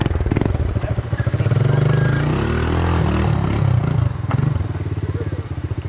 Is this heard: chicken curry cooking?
no